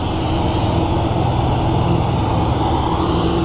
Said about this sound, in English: Look at that plane.